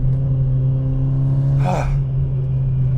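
Mitsubishi Lancer Evolution IX with its 4G63 engine, idling with a strong steady low drone and a brief rise in revs midway, loud and close.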